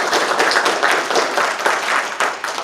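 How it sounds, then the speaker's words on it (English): An audience at a community meeting applauds with a dense, lively round of clapping that carries on throughout, individual claps standing out in the mix. "he deserves a round of applause for that"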